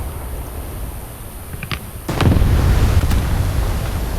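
Rockets burst in War Thunder combat, a loud broadband blast near the two-second mark followed by a sustained roaring rumble and a second sharper crack, over steady engine-like background noise.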